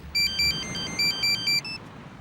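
A mobile phone ringtone sounds in a Hindi comedy movie scene, six short, bright electronic beeps in a quick even pattern over quiet room hiss, alone with no talk.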